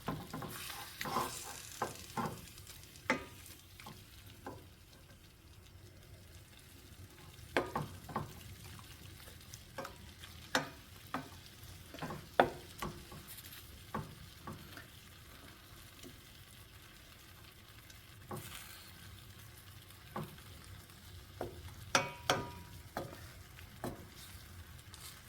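Beef and frozen mixed vegetables stir-frying in a hot pan with garlic, a steady sizzle broken by repeated sharp scrapes and clacks of a utensil against the metal, fairly close and moderate in level, with no talking.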